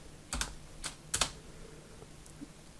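A few keystrokes are typed on a computer keyboard while entering a Windows command, three or four quiet, sharp clicks spaced out over a couple of seconds in an otherwise still room.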